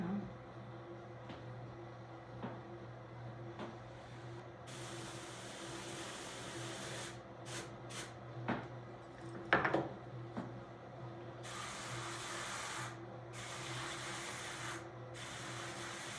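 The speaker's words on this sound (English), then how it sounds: "so what I'm doing here is, one thing is sharpening the tines on my drum carder when I do this" A burnishing brush rubs against the tines of a drum carder loaded with wool, giving faint, intermittent scraping and hissing strokes in bursts over a quiet background hum, with a few small knocks.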